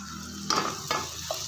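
Salt being stirred into murungai keerai sambar in a pan, a few short scraping strokes over a low, steady simmer, close and fairly quiet with no voices.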